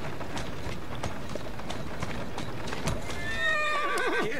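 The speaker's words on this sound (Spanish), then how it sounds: "¿Quién es un buen caballo?" A horse in the video game Assassin's Creed Syndicate trots with rapid clip-clopping hooves, then lets out a loud, wavering whinny near the end, close and clear.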